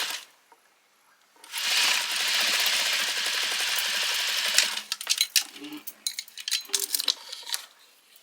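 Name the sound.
sewing machine stitching a waistband seam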